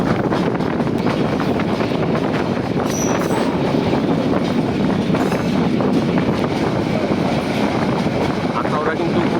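An express train running at speed, heard from inside the carriage on a Dhaka to Cox's Bazar run: a steady, loud rumble and rattle of wheels on track with wind noise, continuous throughout, while someone talks over it.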